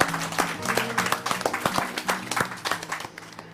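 Diners in a restaurant break into applause, a close, steady patter of clapping with some murmured voices mixed in, tapering off toward the end.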